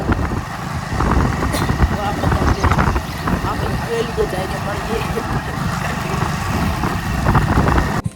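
Steady engine drone and wind rumble from a motorbike on a ride to a job site, continuous throughout under occasional talking.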